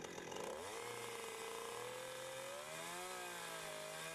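A chainsaw cuts a long groove into wood, its engine rising in pitch as it bites in, then holding a steady, slightly wavering whine under load.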